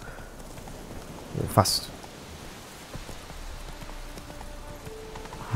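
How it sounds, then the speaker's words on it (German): Hooves clip-clop at a steady, light pace as a horse is ridden through the countryside in The Witcher 3, faint and continuous beneath rain-like hiss, with a brief spoken word and a short louder burst partway through. "jetzt sind wir auf einmal ziemlich oft auf dem Pferd unterwegs"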